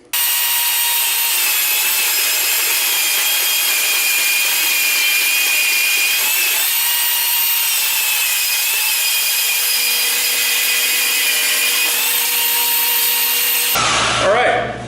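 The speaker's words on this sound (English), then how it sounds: "we're going to go ahead and use our new Swag Portaband table" Portable band saw mounted on a Swag Portaband table cutting metal pieces for a shop table, a loud continuous high-pitched whine and grinding that holds steady throughout, cutting off near the end.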